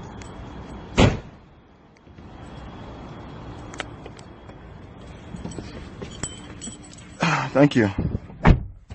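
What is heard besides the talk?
car door opening and closing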